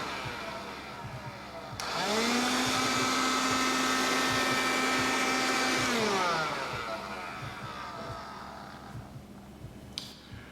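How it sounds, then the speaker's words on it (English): A vacuum cleaner motor whirs up, runs steadily and loudly for about four seconds, then winds down, with a faint click near the end. "then vacuum the area."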